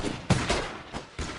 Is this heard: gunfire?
yes